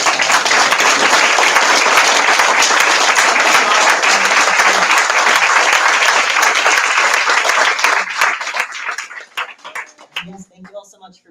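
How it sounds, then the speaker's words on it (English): Loud, dense audience applause for Patty Heyda at a book event for the Radical Atlas of Ferguson, USA, a full room clapping steadily before it thins out into scattered claps and fades near the end. "let's give one more wonderful round of applause"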